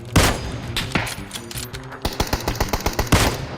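Rapid bursts of automatic gunfire in PUBG (Battlegrounds), a dense fusillade of sharp close shots in quick succession, with loud single cracks near the start and end.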